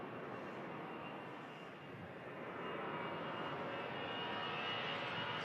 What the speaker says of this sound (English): We have the EasyJet on the roll now.